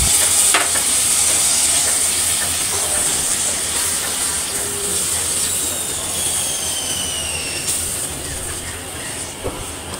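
Small shrimp fry in spiced oil over a medium flame, giving a steady, loud sizzling hiss that carries on throughout and fades a little toward the end.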